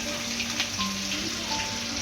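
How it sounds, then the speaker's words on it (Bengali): Cashews frying in ghee over a high flame, a steady close crackling sizzle like rain on a surface, with no voices. "কাজুটা ভাজা হচ্ছে, ঘিতে একটু"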